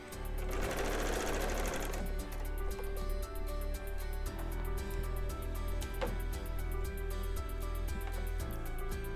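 A serger runs steadily, stitching binding onto a quilt, with a fast even mechanical chatter and a low motor hum, loud and close throughout, no voices.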